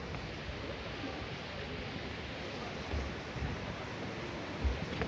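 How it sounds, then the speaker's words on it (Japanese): Hot water pours down at the yubatake hot spring waterfall in Kusatsu Onsen, Gunma, a continuous broadband rushing roar heard from some distance with light outdoor ambience and occasional low thumps. "ここで出て、ここですね、滝がね、すごいです。"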